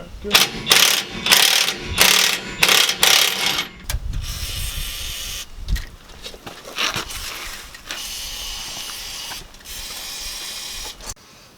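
A ratchet wrench tightens a nut on Nissan Patrol suspension panhard rods and trailing arms, fast clicking bursts close up, followed by scraping, clunks and workshop noise.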